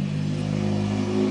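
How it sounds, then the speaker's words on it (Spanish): A steady, nearby engine drone from traffic on a road, a low continuous hum without any talk. "Perdonen si escuchan coches, pero estoy cerca de un paso de coches y de camiones"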